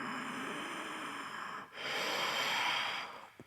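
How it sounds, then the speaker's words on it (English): Slow, deep breathing during a yoga hip stretch, heard as long airy exhales close to the microphone, with a brief pause between two breaths. "deep breathing"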